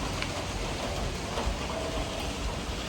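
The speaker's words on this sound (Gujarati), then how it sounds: "બહુ વધારે પડતું વરસાદ ચાલુ થઈ ગયું છે." Heavy rain pours down outside, a dense, even roar of falling water that holds steady and fairly loud the whole time with no voices.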